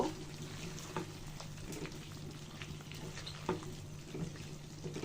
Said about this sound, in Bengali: ডিমগুলো দিয়ে ভালো করে মশলার সাথে কষিয়ে নিব